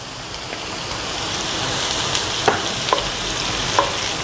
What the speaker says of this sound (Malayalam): കറിവേപ്പില അങ്ങോട്ട് ഇട്ട് കൊടുക്കാം.